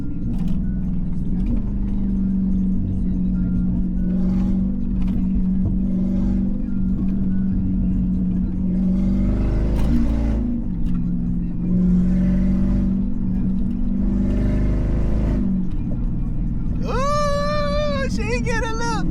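Chrysler 300 with a Scat engine swap pulls hard from inside the cabin, a loud, steady low engine drone rising and easing through gear changes with a brief lift around the middle, and a voice near the end.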